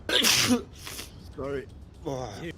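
One sharp, close sneeze at the start, followed by a quieter sniff and a short apology from a man, with another voice speaking briefly.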